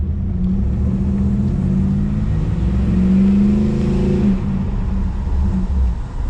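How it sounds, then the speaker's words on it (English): A third-generation car pulls away under light throttle, its engine a loud, close, steady rumble with a rising drone that peaks and then eases off, heard from inside the cabin with no talking. "you can give it a little bit of gas and see how it feels"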